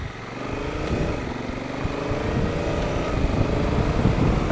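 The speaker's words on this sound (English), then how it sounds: "I can feel it shifting down through the gears here as I'm letting off the gas" A Honda Africa Twin CRF1000L DCT motorcycle downshifts automatically while rolling off the throttle, its engine note loud and close, with the pitch stepping and settling over a continuous ride with wind noise.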